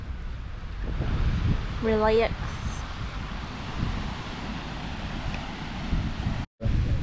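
Wind and surf at a private beach club, a steady broad wash of waves and wind buffeting the microphone, with a brief voice speaking over it partway through.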